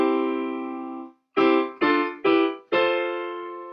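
Piano playing the chords of 'Lean On Me': a held chord fading out, then four clear chord strikes in a steady rhythm, close and alone.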